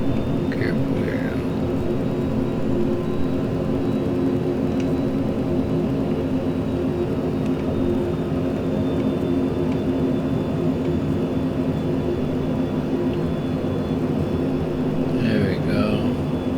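Steady, loud cockpit drone of a Cessna Citation CJ4 business jet in flight, a continuous engine and airflow hum with a faint high whine that holds level throughout.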